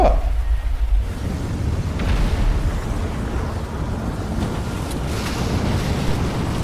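Cyclone storm wind roaring steadily with heavy low rumbling gusts and buffeting, a constant loud wash like surf, sustained throughout without a break.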